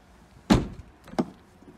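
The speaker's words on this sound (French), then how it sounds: "Une porte arrière" Rear storage-compartment door on a Chausson 788 Titanium motorhome closing with one sharp thump, followed by a softer latch click a moment later, close by and alone.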